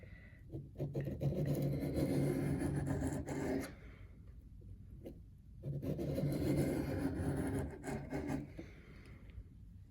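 A reed knife is drawn firmly along a sharpening surface with an angle guide, two long gritty rasping swipes separated by a short pause.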